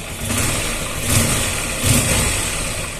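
A Honda XR 150L motorcycle engine runs steadily while warming up, a continuous near idle with two slight swells in revs, heard alone without talk.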